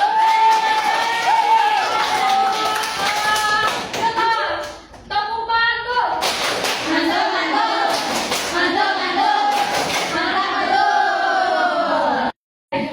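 A classroom group claps in a burst of applause with some cheering and crowd noise, the clapping continuing across most of the stretch before a brief dropout near the end.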